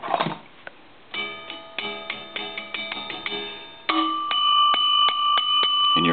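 The coin gong bell inside a 3 slot payphone being struck repeatedly, each bright metallic ding ringing out and decaying before the next, close and clear, with a denser run of strikes toward the end and no speech.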